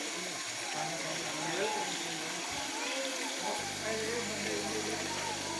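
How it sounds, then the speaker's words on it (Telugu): Water falling steadily at Bhairavakona waterfall, a close continuous rushing hiss with a low hum entering partway, and people talking over it. "చూడండి జలపాతం నీళ్ళు ఎట్లా పడుతున్నాయో"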